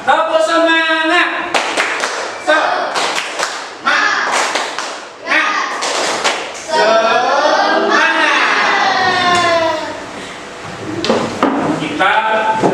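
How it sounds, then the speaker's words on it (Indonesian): A classroom of children doing rhythmic spirit clapping, sharp bursts of claps in patterned groups alternating with chanted voices and a teacher leading, close and lively. "Kita mulai, kita coba. Tepuk semangat."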